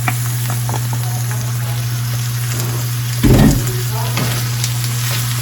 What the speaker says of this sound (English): Mix it together with the meat.